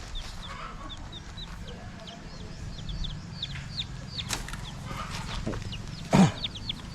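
Newly hatched chicks kept for raising gamecocks, a continuous chorus of high, thin peeps repeating throughout, with a brief louder thump or rustle near the end.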